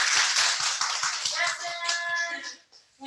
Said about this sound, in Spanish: Otro fuerte aplauso a nuestro hermano mayor Javier